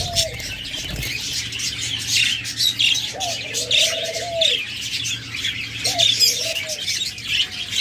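Pet birds offered for sale, including cockatiels, lovebirds and budgerigars, chirp and tweet steadily with some cooing calls mixed in, a busy, close chorus of small-bird chatter throughout with no talking.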